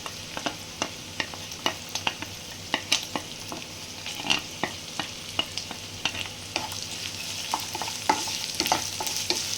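Finely chopped onion frying in a pan for a sehri meal, a steady close sizzle broken by frequent sharp clicks and scrapes of stirring, with no talking.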